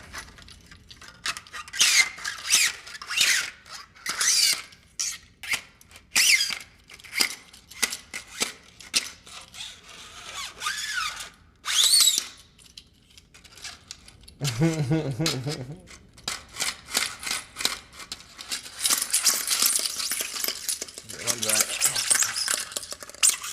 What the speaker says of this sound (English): Those are my swords. They have sound effects. That's when it extends. And then when it retracts.